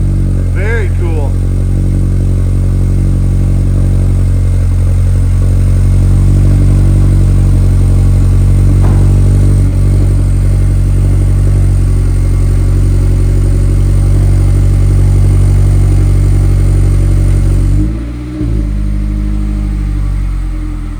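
A Mazda MX-5 Miata ND with a Cobra center-exit exhaust idles after a cold start with a deep, steady exhaust rumble close by, a brief blip near the end, while a person talks over it.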